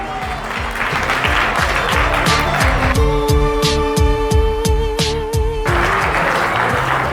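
An audience claps loudly and steadily to welcome a surprise guest at a gathering. The dense applause runs the whole stretch, with a sustained musical tone sounding through its middle.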